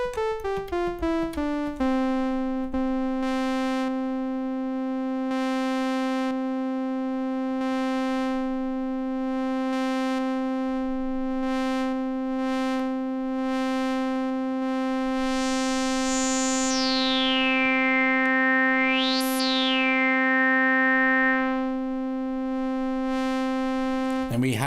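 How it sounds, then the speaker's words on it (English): A bright, buzzy saw wave from the Copperhead digital synth on iPad holds one sustained pitch, with a filter sweep rising and falling late in the tone. "Saw wave."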